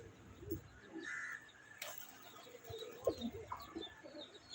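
Pigeons in a loft holding around eighty birds give faint, scattered coos and flutters amid quiet background noise, with occasional caw-like calls mixed in.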